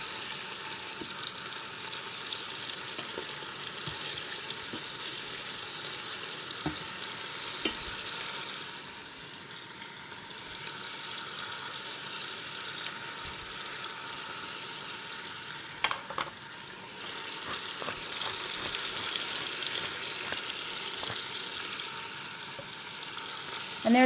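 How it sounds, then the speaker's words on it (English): Beef short ribs sear in an Instant Pot with a steady, close sizzle and occasional clinks and scrapes of a utensil. "just making sure that each side gets nicely seared"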